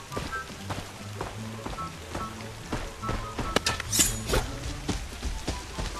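Rain patters steadily in the night-time Valley map of the shooter game Operation Foxtrot, a dense hiss of close droplets with scattered sharper taps and a few brighter splashes.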